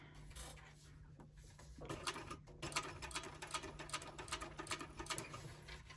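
A sewing machine stitches around the edge of a fabric pouch, its needle patter starting softly and then running as a steady, close, rapid ticking with a low motor hum beneath.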